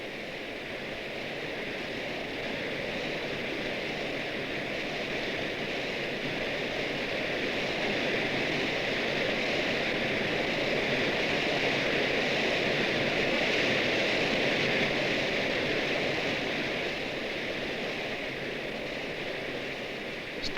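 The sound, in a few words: the Nachi waterfall in Japan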